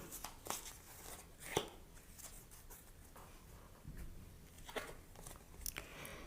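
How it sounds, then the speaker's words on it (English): Tarot cards being shuffled by hand give off quiet, irregular soft taps and riffling clicks, scattered unevenly and close to the listener, with no voices. "I'll just shuffle a little bit more."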